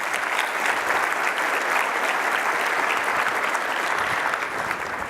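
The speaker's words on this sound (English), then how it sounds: "let's give them a round of applause" Audience applause at a business software conference opening session in North America, a dense, steady wash of many hands clapping at even loudness throughout, with no voices standing out.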